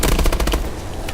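Rapid assault rifle bursts from the Advanced Warfare Exo Survival game, a dense run of loud, evenly spaced shots for about half a second that then thins into trailing reverberant noise.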